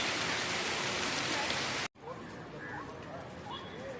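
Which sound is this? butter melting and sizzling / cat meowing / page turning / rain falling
rain falling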